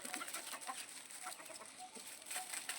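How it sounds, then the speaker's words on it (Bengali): A breeding rooster on a small poultry farm clucks faintly in short, scattered calls over a steady background hiss, with no clear crow. "এই মোরগটাকে দিয়ে আমি বিডার করি"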